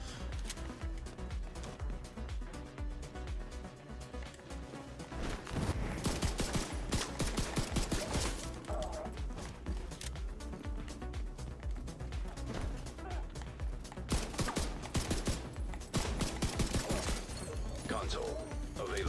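Dense pistol gunfire in The Division 2, sharp cracking shots fired in quick runs over a busy bed of game combat noise and music, loud and close throughout.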